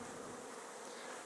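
A large swarm of honey bees buzzing outdoors, a dense, continuous hum filling the air with no pauses, close and steady throughout.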